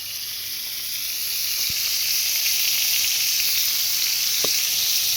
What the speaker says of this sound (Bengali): এদিকে পটলগুলো ভাজা হতে থাক।